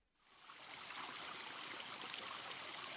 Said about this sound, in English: Soft running water?